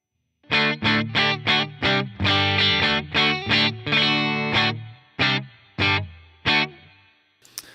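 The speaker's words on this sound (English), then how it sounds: "So I do have a little bit of spring reverb going on, which is cool." Kiesel electric guitar played through an effects chain with a touch of spring reverb, a series of loud strummed chords in a steady rhythm with short gaps, each ringing out with a reverberant tail, no voices.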